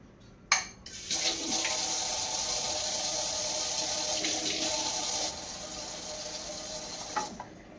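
Water runs steadily into a food mixture for blending after a sharp clatter, then eases off near the end; no voices.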